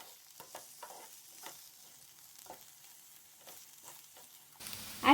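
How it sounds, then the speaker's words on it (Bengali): Tomato and green chilies fry in oil for a corica fish curry, a steady soft sizzle with scattered stirring scrapes, then a louder clatter near the end. "এবার অ্যাড করে দিচ্ছি টমেটো আর কাঁচামরিচ। হালকা ফ্রাই করে নিচ্ছি।"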